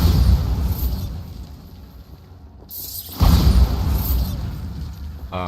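Bombarda spell blasts in Hogwarts Legacy: a loud, booming explosion at the start fades into a quieter lull, then a second heavy burst erupts and rumbles on to the end.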